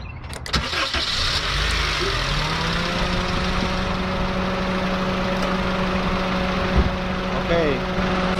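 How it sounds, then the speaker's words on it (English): A 2008 Honda Civic DX engine cranks and catches, then idles steadily with a radiator fan whirring alongside, close and continuous, with a few clicks at the start. "now the car was running and the fan, only one fan was running"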